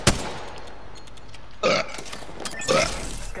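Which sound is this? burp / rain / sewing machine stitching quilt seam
burp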